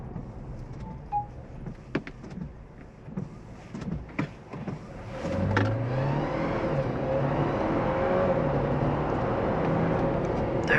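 A 2024 GWM Tank 300 Ultra Hybrid with a 2.0-litre turbo hybrid powertrain accelerates, building a sustained whining drone with rising pitch after a few scattered knocks and clicks, close and loud from inside the cabin.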